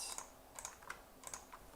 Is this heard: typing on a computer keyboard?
yes